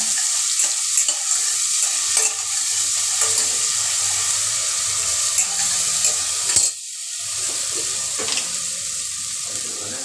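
Ginger-garlic paste stirred into tomatoes frying for a village-style mutton curry, a steady bright sizzle with soft stirring scrapes that dips briefly partway through and then carries on.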